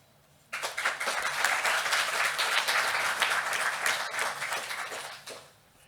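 Audience applause at a youth participation conference session, a sudden burst of steady, moderately loud clapping that holds for about five seconds and then fades out.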